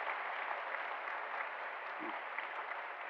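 Korean church congregation clapping in thanks for the combined choir and its conductor at an Easter service, a soft, even, continuous patter heard from some distance.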